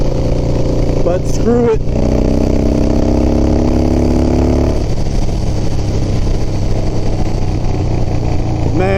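A 32-year-old Harley FXR motorcycle engine runs steadily and loud throughout, with rising revs in the first half before settling, and someone speaks briefly over it near the start.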